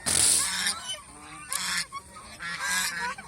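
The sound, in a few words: goose honking on a goose farm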